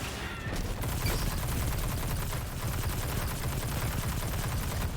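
Continuous rapid gunfire in the Destiny 2 video game during a Lost Sector run, a dense unbroken stream of shots held at steady loudness for several seconds, with no talking.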